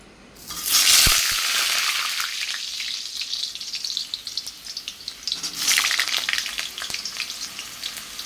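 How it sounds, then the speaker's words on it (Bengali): Potato pieces dropped into hot oil give a sudden loud hiss that settles into steady frying, then swells again with a second burst of sizzling, close and without speech. "তেল তেতেও গেছে, আলুটা দিয়ে দিই ভাজার জন্য"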